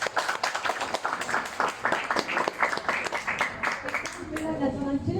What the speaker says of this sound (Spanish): Le vamos a recibir con fuertes palmas a Rosalinda Carmina